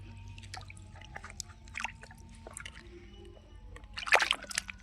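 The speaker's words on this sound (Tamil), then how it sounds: "மண்ணாக இருக்கும், அதை கழுவிக்க வேண்டியது." Muddy palm tubers freshly dug in a village are washed in water, making intermittent sloshing, splashing and dripping sounds that grow to a louder burst of splashes near the end, with no talking.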